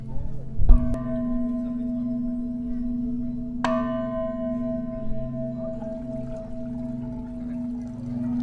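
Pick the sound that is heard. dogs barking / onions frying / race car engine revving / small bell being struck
small bell being struck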